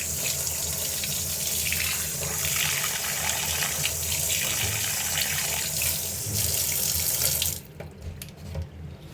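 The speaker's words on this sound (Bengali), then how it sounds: "তো এখন এখানে মাছগুলো ধোয়া হচ্ছে।" Fish, apparently hilsa, being rinsed under a running kitchen tap into a sink, a steady close splashing gush that carries on for most of the time before cutting off near the end, leaving quieter clatter.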